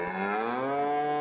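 Cattle in the Farming Simulator game give a single long, loud moo, a rich harmonic call that slides gently upward and holds steady for over a second with no talk over it.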